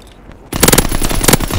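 Fighter aircraft strafing run in Call of Duty WWII, a sudden loud burst of rapid machine-gun fire after a quiet moment, continuing as dense rattling shots to the end.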